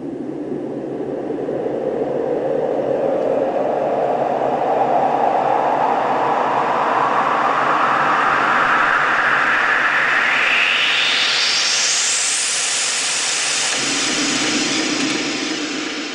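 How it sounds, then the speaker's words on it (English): A wash of white noise from a Trilogy synthesizer, run through an auto filter, sweeps steadily upward in pitch over many seconds, rising from a dull roar to a bright hiss, with ping-pong delay echoes. "white noise tone coming out of Trilogy that I have put through the auto filter"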